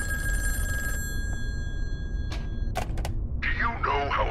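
The tail of a ringing bell telephone cuts off in the horror video game In Sound Mind, followed by a few clicks and a receiver pickup, then a voice begins speaking over low ambient drone.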